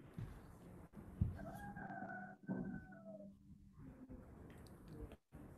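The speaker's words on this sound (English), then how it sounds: "I'm hearing a cock crow" A rooster crows somewhere in the distance, giving one drawn-out, rising and falling call that sounds faint against quiet room ambience. No one speaks.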